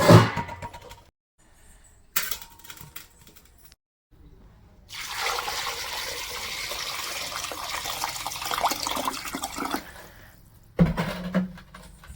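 Quail meat rinsed under a running kitchen tap, with a steady broadband splash of water that starts and stops several times, loudest in a long stretch midway, and a few faint voices between the runs.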